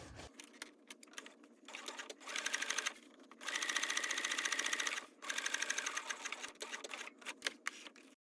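A sewing machine runs top stitching along a zipper closure on a bag with lining and exterior layers. It makes fast, even mechanical rattling in several bursts, with short pauses and small clicks between the runs.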